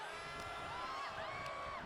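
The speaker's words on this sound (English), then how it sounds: "Crowd is fired up and rightfully so." Arena crowd in the WWE 2K25 wrestling game cheering and whooping in a steady, distant roar that fills the short moment without any talk over it.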